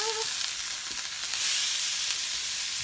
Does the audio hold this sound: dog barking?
no